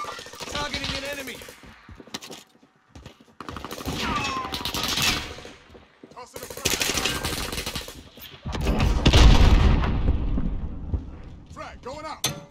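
Turret gunfire in a shooter game, fired in short loud bursts separated by gaps, with a voice talking between and over the shots.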